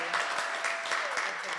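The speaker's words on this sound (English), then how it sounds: "So a big round of applause for that." A short burst of crowd applause, dense clapping at a steady level, with a voice faintly audible underneath.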